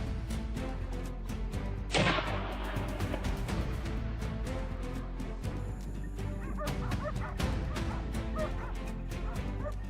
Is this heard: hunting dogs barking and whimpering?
yes